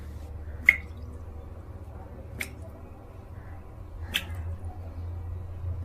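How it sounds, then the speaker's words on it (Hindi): Water drips from a leaking household tap in three separate, sharp drops spaced about two seconds apart, each quick and fairly close, over a low steady background hum. "Is it a tap leaking?"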